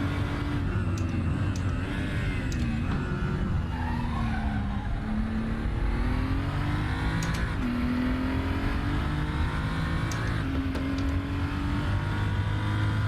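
A race car in an onboard racing game lap at Zandvoort drones continuously, its engine pitch rising and falling through gear changes with occasional tire squeal, loud and close throughout.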